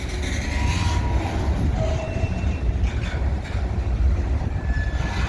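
An SD40 locomotive hauls a long manifest freight train through Minneapolis, with steady rolling rumble, rhythmic wheel clatter over rail joints and brief thin squeals, loud and close throughout.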